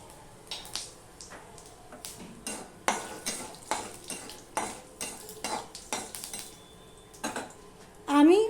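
Half a spoon of panch phoron spices goes into hot mustard oil left from frying fish for a Bengali fish curry. A faint sizzle runs under repeated sharp clinks and scrapes of a spoon against the pan.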